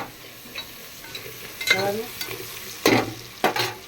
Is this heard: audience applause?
no